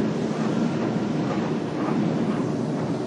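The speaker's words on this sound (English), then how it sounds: "they operate a light rail system, these trains right here." A New Jersey Transit light rail train runs along the track, giving a steady, loud rumble and rush of wheels and motion noise that holds evenly throughout, with no talk over it.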